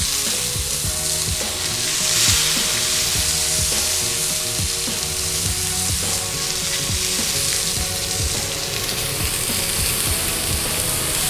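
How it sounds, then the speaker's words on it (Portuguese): Vegetables drizzled with olive oil sizzle on a grill pan beside salmon, zucchini and eggplant, producing a loud, dense, steady frying hiss with faint scraping and clicks, close up. "Vou aproveitar e utilizar a grelha e colocar os legumes também. A mesma coisa, um fiozinho de azeite de oliva nos legumes."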